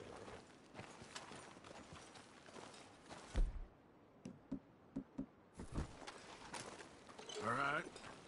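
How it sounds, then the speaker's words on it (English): A horse's hooves clip-clop in Red Dead Redemption 2, a few distinct close hoof strikes in a short sequence amid game ambience. "Can't take that horse in there."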